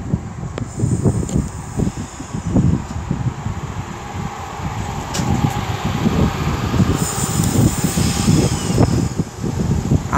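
Class 323 electric passenger train on the Lickey Line at Bromsgrove rumbling past, a continuous rolling roar heavily mixed with gusting wind noise, fairly loud and steady with no speech.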